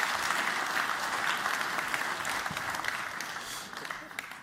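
An audience in Amsterdam claps for an arriving guest at a Moscow Times event on exiled Russian journalism. The dense, steady applause fills the whole stretch and thins slightly toward the end.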